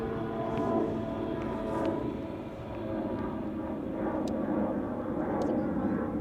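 An airplane roars past at Amsterdam Schiphol Airport, a loud, steady broadband engine rumble holding throughout without speech.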